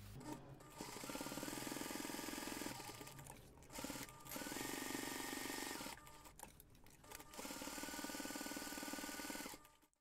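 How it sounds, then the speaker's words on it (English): A sewing machine runs in long, steady bursts while basting the back pocket of a small crossbody bag, humming and rattling close by with brief pauses between runs. "I'm going to take this to the machine and I'm going to baste the back pocket around those three sides."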